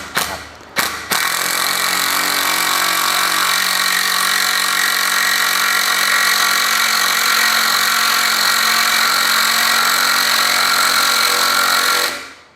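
A Makita TD110DWYE cordless impact driver driving screws into hard wood whirs loudly and continuously for about ten seconds after a couple of short bursts, a steady high-pitched motor whine at close range.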